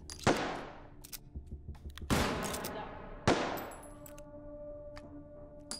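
Enemy gunfire in the VR shooter Hot Dogs, Horseshoes & Hand Grenades: three sharp, loud gunshot blasts spaced about a second apart, each ringing out with a long metallic decay, alone without talk.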